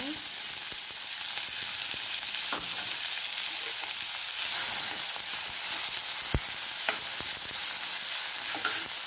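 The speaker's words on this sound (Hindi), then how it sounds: "आतां भितर कांदो घालून घेता।" Onion dropped into hot oil in a pan on a gas stove, a continuous loud sizzle and crackle with scattered sharp pops and stirring clinks, close up, with no voices.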